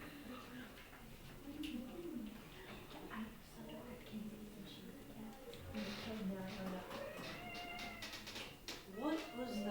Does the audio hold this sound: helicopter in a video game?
no